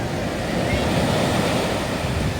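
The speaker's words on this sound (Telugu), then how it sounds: "అలలు చూడండి, రాత్రి అయ్యే కొద్దీ అలలు పెరుగుతూ ఉంటాయంట." Sea waves breaking on Pondicherry's Marina beach at nightfall, a continuous broad surf wash with wind buffeting the microphone.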